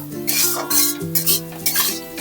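A utensil scrapes and clatters against a pan in quick, repeated strokes as taro stems are stir-fried, close and fairly loud, with a faint hum underneath.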